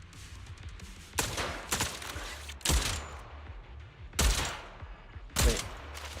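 Bursts of gunfire hit ether storage tanks in Zenless Zone Zero, four or five separate rapid volleys spaced a second or so apart, fairly quiet against a low background rumble.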